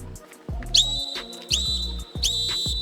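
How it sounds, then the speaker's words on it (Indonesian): A referee's whistle blown in three sharp, shrill blasts, each short with a quick pitch rise, spaced about three-quarters of a second apart and loud against a quiet background. "ketika membunyikan peluit mau switch kan caranya kayak gini kan Pak?"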